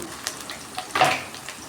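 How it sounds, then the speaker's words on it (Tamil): Sliced onions and curry leaves frying in oil in a pan for a soya chunk gravy, giving a soft steady sizzle with light stirring scrapes and one brief louder crackle, close and fairly quiet. "நல்லா வதங்கட்டும் வெங்காயம் நல்லா ப்ரௌனிஸ் ஆகட்டும்"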